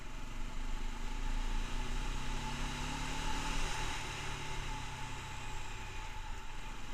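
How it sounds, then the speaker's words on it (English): Car engine being run in during break-in on a new engine, steady mid-pitched running note with a broad rise and fall in revs through the gears, fairly close and constant, with no talking. "Second gear, accelerate moderately hard, de-accelerate, let the engine work out."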